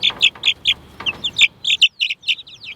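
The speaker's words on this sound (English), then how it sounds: "Hello, little chickies." Young chicks calling in a quick series of short, high peeping clucks, close by, with brief pauses between bursts.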